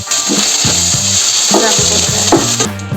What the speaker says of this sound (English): Stir it and keep stirring it so that it doesn't burn.